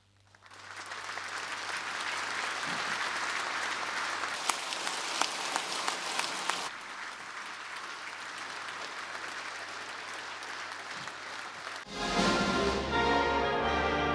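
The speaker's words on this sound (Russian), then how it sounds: "В это время гости аплодировали стоя." Guests applauding in a standing ovation at a presidential inauguration ceremony, sustained dense clapping that changes texture partway through, then gives way to music near the end.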